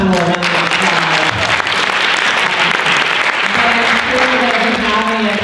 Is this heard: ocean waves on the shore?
no